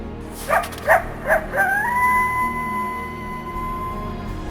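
Canine vocalizations from a Himalayan wolf pack on a hunt: several short yips or barks in quick succession, then a long, steady, tonal howl that holds on, fairly close and clear, with no talk.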